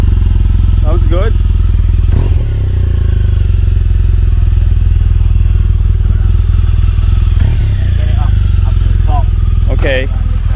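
A motorbike engine runs steadily close by on a morning ride to volcano sites, with a dense low idle drone throughout. Occasional clatters and thumps break through, and faint voices chirp intermittently.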